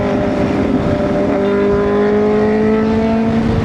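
A Kawasaki Ninja motorcycle passes on a road at night, its engine a loud, close steady drone with a slowly shifting pitch, heard over constant riding wind and road noise.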